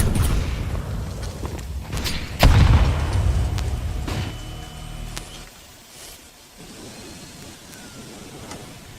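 A flashbang grenade goes off in a video game, a loud close burst followed by a ringing, fading wash of noise over several seconds.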